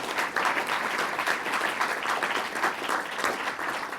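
An audience at a climate change event applauds a guest introduced by the governor, a steady dense wash of many hands clapping at even loudness throughout, with no voices over it.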